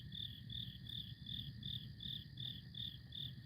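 Crickets chirp in a Final Fantasy IV scene, a quiet, steady night ambience of evenly pulsing chirps repeating about three times a second.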